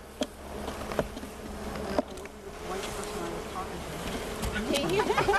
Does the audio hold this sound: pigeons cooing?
no